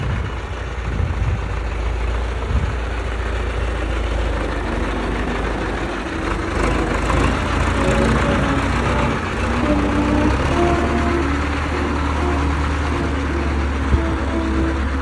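A heavy diesel engine of a YuMZ tractor excavator runs steadily at close range, a low continuous rumble with a slight rise in revs partway through.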